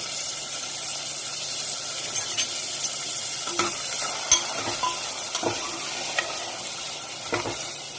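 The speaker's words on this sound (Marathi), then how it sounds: "आता वाटणासोबतच मी काय करणार आहे, टोमॅटो आणि कोथिंबीर आहे ना, ती पण टाकून घेते आणि छान असं तेलामध्ये सुरुवातीला परतून घेते मी सगळं." Tomato, coriander and ground masala sautéing in oil, a steady sizzle overlaid with repeated spatula scrapes and occasional clinks against the pan, close and clear with no talking.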